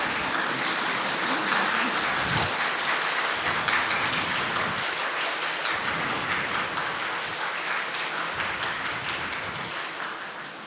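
An audience at a Tamil talk on astrology in Tamil literature stands and gives a long round of applause. The clapping is dense and continuous and tapers slightly toward the end.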